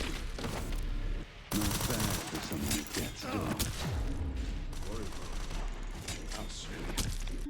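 Gunfire from the Requiem gun in Resident Evil 9, with loud rapid shots and mechanical clatter over dense game noise, and a voice talking over part of it.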